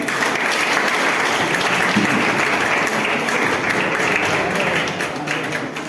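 A crowd at a sales meeting bursts into sustained, loud applause, dense clapping that continues throughout and eases slightly near the end.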